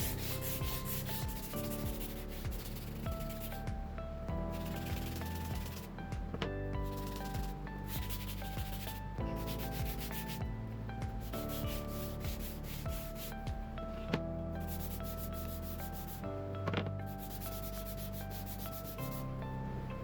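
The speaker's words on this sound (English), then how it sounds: "take another fine piece of sandpaper, wrap it around my finger, and then sand down the entire juice channel" Steady, close rasping of fine sandpaper wrapped around a finger, rubbed by hand along the juice channel of a wooden cutting board, continuous strokes with brief pauses, over faint background music.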